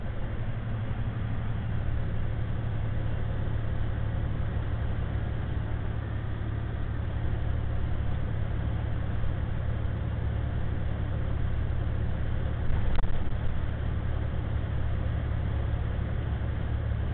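A Chrysler 300's engine runs under way as a steady, muffled drone heard from inside the car. The hum stays even and constant for the whole stretch, with a brief bump near the end.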